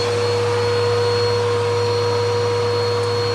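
A vacuum cleaner runs with its brush roll spinning, a loud, close, steady motor whine with a low hum underneath, unchanging for the few seconds heard, with no talking.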